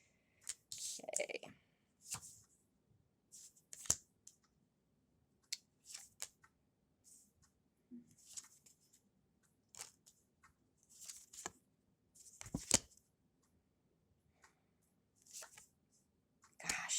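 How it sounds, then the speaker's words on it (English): Tarot cards are shuffled in short, crisp riffling bursts, close and fairly quiet, repeating irregularly, with a brief spoken word at one point. "you saw me shuffle"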